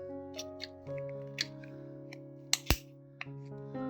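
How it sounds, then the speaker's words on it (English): Metal shears snip through metal for a model grot tank: one sharp, close cut stands out near the end, with a few lighter clicks before it, all over steady background music. "Maybe those metal shears gonna finally come in handy for something. Let's try to cut this."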